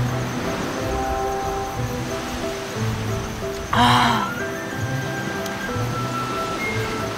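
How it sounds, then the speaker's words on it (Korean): Ocean waves wash onto the shore of an exotic island at a backpacking campsite, a steady, close surf hiss with faint tonal background sounds, broken by one short exclamation from a voice. "파도 소리도 완전 ASMR처럼 잘 들리고."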